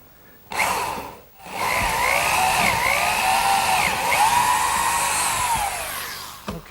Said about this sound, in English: Now for those dowels I'm going to use a 3/8 inch brad point bit